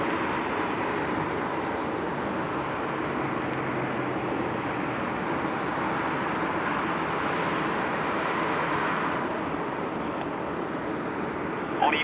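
A jet airplane takes off or lands at Narita Airport at night, heard as a faint, distant, steady roar that holds throughout.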